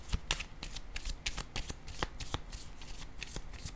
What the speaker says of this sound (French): Je vais piger une autre carte.